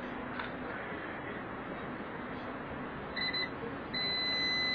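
A multimeter's continuity beep sounds while a hard disk's PCB is being tested. It comes in as a thin electronic tone, first briefly, then held steady, over a noisy background hiss.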